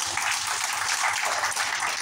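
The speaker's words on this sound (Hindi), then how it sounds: "एक बार जोरदार तालियां बजाएं।" An audience at an ATP sharing event in Indore applauds steadily, a dense, even wash of many hands clapping at moderate volume with no break and no speech over it.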